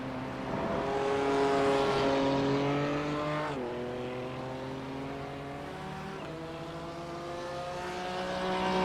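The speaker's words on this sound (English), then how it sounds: "You hear the engine at full chat." A GT3 race car at Rudskogen screams at full throttle, its loud engine note climbing through gears with sharp shifts, holding a strong sustained whine near the listener.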